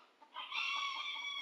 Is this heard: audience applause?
no